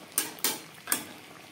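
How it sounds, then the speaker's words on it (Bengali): Kohlrabi cooking with spices in a pan, heard as three quick, faint scrapes and clinks of a utensil against the pan over a soft background, with no voices. "মশলার সাথে ওলকপি বেশ ভালো করে কষিয়ে নেওয়া হয়ে গেছে"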